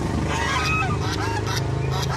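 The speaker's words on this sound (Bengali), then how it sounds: "হ্যাঁ, হাঁসগুলো আবার ওকে দেখে তাড়াও করছে, ডাকও দিচ্ছে।" Large geese at a small zoo pond, a dense run of honking calls over a constant low noisy background, close and fairly loud.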